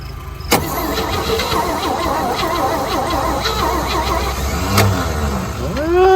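A 1963 one-ton truck engine cranks over steadily and keeps trying to catch without settling into a run, the churning drone going on throughout with a sharp squeal near the end.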